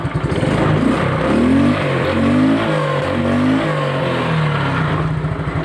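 A modified vehicle engine with changed injectors, wiring and wide tyres, revving as throttle is applied, with repeated rising and falling pulls over a constant close rumble, heard from nearby.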